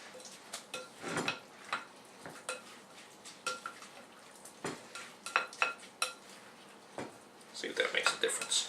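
A spoon stirs bruschetta topping with spicy oregano in a bowl, producing a series of irregular clinks and scrapes against the bowl, close and moderately loud, with bursts of rattling near the end.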